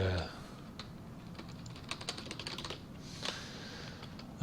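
Keystrokes on a computer keyboard tapped in short irregular bursts, fairly quiet and close, with brief speech-like sounds at the start and end.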